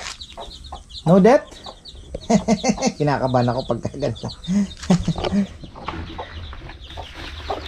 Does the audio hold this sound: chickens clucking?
yes